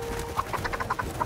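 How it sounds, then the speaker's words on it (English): Ptarmigans caught by dogs in the video game The Red Lantern give a rapid series of short clucking squawks over a steady background of game noise. "Y'all are great at catching these birds."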